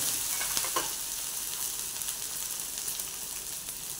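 Ground masala paste for chana masala sautés in hot oil, a steady close sizzle and frying hiss with occasional light stirring scrapes and no voices.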